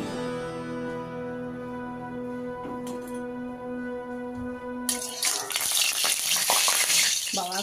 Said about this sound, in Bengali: এবার মাছটা ভাজা বসিয়ে দেবো